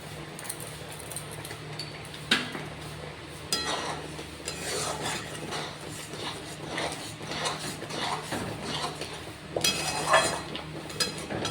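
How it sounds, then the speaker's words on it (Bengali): Chhana, a cottage cheese, being stirred in a pan with ghee gives a steady scraping and rubbing with occasional light clinks of the spoon against metal, continuous and close for the whole stretch. "এইভাবে শুকনো না হওয়া পর্যন্ত অবিরত ছানাটাকে নেড়ে নেড়ে আরও মিহি করে ফেলতে হবে।"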